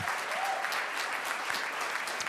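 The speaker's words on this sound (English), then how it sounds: "You can clap for that." Gala audience applauding, a steady, moderately distant patter of many hands clapping with no voices over it.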